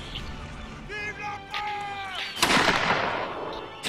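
Musket shots go off in a historical line-battle video game, with a sharp blast at mid-clip and a noisy decay. Game tones and ambient noise come before it.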